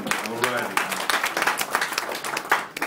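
Applause from a comedy club audience after the host asks for a round for the comedians, a dense continuous wash of clapping sustained loudly throughout, with a few voices mixed into the crowd.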